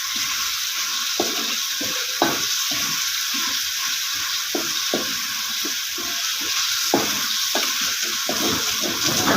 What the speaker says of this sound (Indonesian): gongsang sampai dia mengeluarkan minyak dari bumbunya